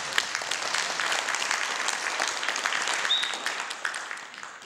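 A lecture audience at an evening talk on the global slowdown and Korea gives sustained, fairly close applause that gradually thins toward the end.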